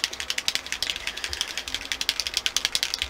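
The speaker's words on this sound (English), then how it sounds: "just give it a good shake" A Distress Oxide spray bottle is shaken hard, its mixing ball rattling in a fast, even series of close, loud clicks that carry on without pause.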